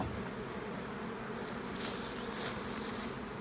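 Honeybees buzz steadily around an open hive colony during a spring inspection, a dense, continuous drone with no talk over it.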